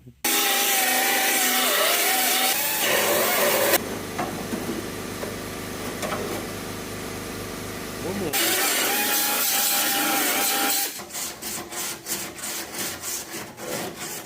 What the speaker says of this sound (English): I'm gonna get those spot welds out, and I'll get that piece out of there.